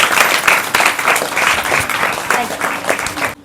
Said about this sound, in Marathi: त्यामुळे जोरदार टाळ्या सगळ्या मुलांसाठी